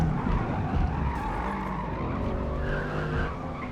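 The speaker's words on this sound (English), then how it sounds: "the tyre sounds in Forza Motorsport are so frustrating" Tyres screech and scrub in a long continuous skid in the racing game Forza Motorsport, loud and steady over the low drone of a car engine.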